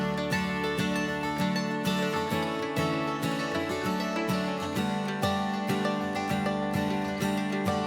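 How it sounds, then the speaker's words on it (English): Mandolin, dobro and acoustic guitar play together in a steady, rhythmic, energetic strummed groove with bright picked notes, full and close, with no voices. "the mandolin, the dobro, and the acoustic,"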